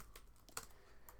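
Keys tapped on a computer keyboard while code is entered, a few quiet, quick clicks spread across a brief moment, with one slightly sharper keystroke in the middle.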